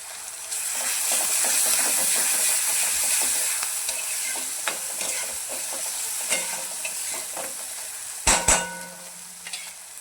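Chopped onion and curry leaves fry in a pan for tomato chutney, a steady close sizzle and hiss with scattered stirring scrapes and a couple of louder clanks near the end.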